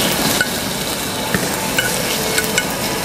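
A sauce reduces in a pan until almost dry while a garnish for sirloin steak is being prepared. Steady frying and sizzling continue throughout, broken by a few faint utensil clicks and stirring sounds.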